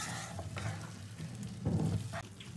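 Spices, fat and potatoes being sautéed in a pan, a soft sizzle with a few scraping stirs and utensil knocks, fairly quiet and close, with no talking.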